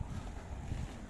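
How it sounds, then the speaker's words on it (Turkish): Steady low rumbling wind buffets the microphone at Çamiçi highland plateau near Niksar, Turkey, a continuous outdoor gust that swells slightly without pause; no voices. "rüzgar da esiyor."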